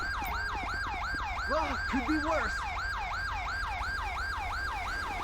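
Police car siren in the video game GTA 5, a loud, rapid repeating wail cycling evenly throughout, with a brief lower-pitched secondary siren tone cutting in around the middle.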